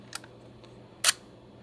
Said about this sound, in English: We're going to advance the film.